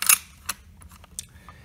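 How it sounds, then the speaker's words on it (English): A bolt cycled on a Denix replica Kar98k rifle, loose and tinny: a sharp metallic clack up front, then lighter scattered clicks and a faint scrape, all close and with no voices. "cycle of the bolt here."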